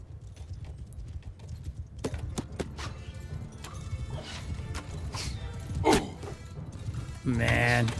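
Horse hooves clip-clop steadily in the Mount & Blade II Bannerlord game, mixed with battle clatter and thuds, with a whinny-like burst near the end and a dense game soundscape throughout.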